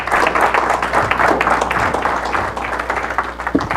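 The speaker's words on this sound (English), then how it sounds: "let's give Patrick another round of applause" Conference audience at a green data center event applauding the speaker, a loud, dense burst of clapping and crowd noise that eases slightly partway through.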